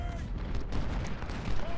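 Cannon artillery in an Ultimate General: Civil War battle booms as a dense, low rumble of distant fire, layered and continuous with no clear single shot standing out.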